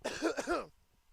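A baseball game commentator coughs a few times in a short, close burst, and near silence follows.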